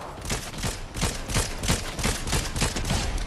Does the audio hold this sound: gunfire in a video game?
yes